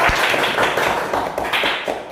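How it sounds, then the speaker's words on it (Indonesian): A small class claps together during a microteaching lesson, a burst of dense, close applause lasting a couple of seconds with uneven rhythm and no talk over it. "Tepuk tangan untuk semuanya."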